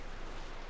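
Katyusha rocket barrage in Company of Heroes 2, a brief dense burst of roaring, crackling rocket fire and impacts, loud and continuous with no voices.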